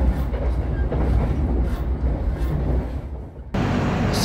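Jayabaya executive train rumbling along the rails at night, a steady loud low roar with rhythmic clatter from inside the carriage, briefly dipping before resuming full strength.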